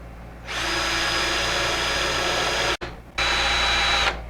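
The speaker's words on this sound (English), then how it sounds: "set it on your board and we'll go ahead and start drilling" A power drill bores into a board using a drill and tap tool, running as a steady, close, loud whine for about two seconds, then cutting out briefly before starting again at full speed.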